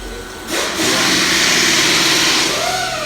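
Loud, dense mechanical whirring from drills and air wrenches at nearby shops, rising sharply after half a second into a sustained roar with shifting tones on top.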